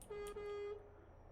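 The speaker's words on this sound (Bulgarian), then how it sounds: "Клаксона е доста хубав." The horn of a Scania S truck gives a single steady honk lasting under a second, loud and close, then cuts off into a quiet idle.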